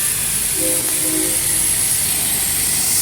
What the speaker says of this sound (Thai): หนึ่งร้อยแปดปีนะครับผม ด้วยรถไฟ ระบบไอ้น้ำนะครับ